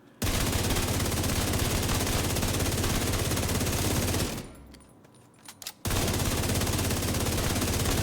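Assault rifle firing shock bullets in the video game The Division 2, loud continuous rapid automatic fire, a short pause with a few clicks, then another sustained burst.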